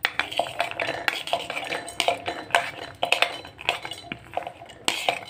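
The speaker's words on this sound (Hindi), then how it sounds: "आप देख सकते हैं मैं मिक्सी में इसे ट्रांसफ़र करूँगी" Metal spoon scraping and clinking against a mixer grinder jar while roasted peanuts are transferred for chutney, a steady run of close, irregular clinks and scrapes with no talking.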